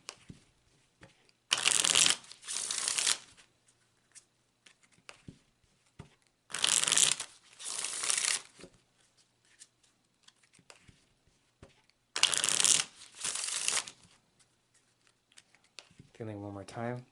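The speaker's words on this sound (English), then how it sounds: "Now I'm going to go ahead and cut the deck." A deck of playing cards shuffled in three separate bursts of quick riffling flutter, close and crisp, with quiet pauses between and a brief voice at the end.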